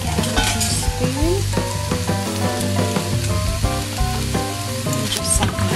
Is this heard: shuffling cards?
no